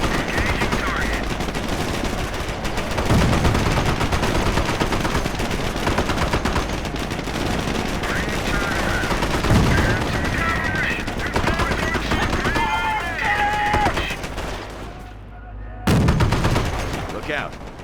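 Dense rifle and machine-gun fire rattles continuously through a Company of Heroes battle, with heavier explosive bursts and short radio-style voice lines in the mix.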